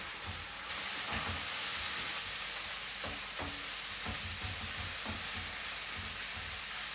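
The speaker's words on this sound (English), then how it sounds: "and give it a stir." Bell peppers and other food sizzle steadily in a hot frying pan while a utensil scrapes and stirs through them in irregular strokes.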